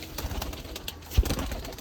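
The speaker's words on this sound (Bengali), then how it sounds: "এই আমার সবথেকে ডেঞ্জারাস একটা কবুতর" Pigeon cooing in a close, noisy loft, a brief low coo amid rustling and steady background hiss.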